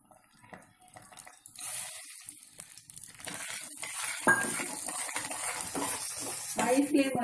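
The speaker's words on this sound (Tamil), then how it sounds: "கீ ஊற்றிக்கலாம். இதில் ரவாவை ரோஸ்ட் பண்ணிக்கலாம்." Semolina (rava) roasts in ghee in a pan for rava laddoo, with a spoon scraping and stirring, faint sizzling and occasional metal clinks growing busier toward the end, and quiet room noise but no talk.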